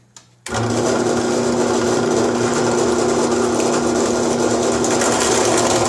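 A center drill bores into a stack of copper pieces, the machine starting abruptly after a brief quiet and then running as a loud, steady whine with constant cutting noise.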